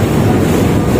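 Big ocean waves surge around a boat heading to Saint Martin, heard as a loud, unbroken rushing roar mixed with wind buffeting the microphone; no voices.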